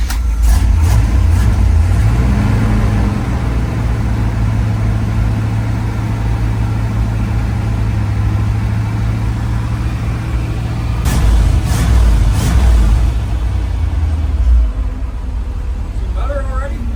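A 1978 K-30 dump truck engine idles with a deep, steady rumble close by, revving briefly near the end, while people talk over it.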